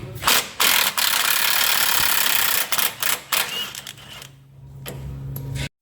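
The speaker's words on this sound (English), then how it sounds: "I need to remove this bolt here, you'll see on the side of the chassis" A bolt is worked loose from the side of a 300 Series Landcruiser chassis, with bursts of loud rapid ratcheting from a power tool separated by short pauses, ending in a quieter lower hum.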